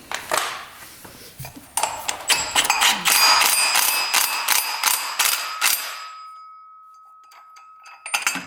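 Metallic clicking and ratcheting as a nut is cranked down on a UTV during belt work, a quick run of sharp ticks followed by a fading ring and a few last clicks.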